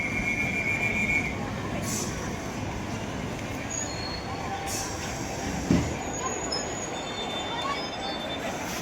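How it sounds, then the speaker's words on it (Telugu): A MEMU electric train running from Villupuram to Tirupati gives a steady rumble of moving carriages with faint rail clatter and a few brief high squeals, heard from inside at moderate level. "అయితే వెల్లుపురం నుంచి వెళ్ళి తిరుపతి వెళ్ళే మెమో ట్రైన్ ఇది."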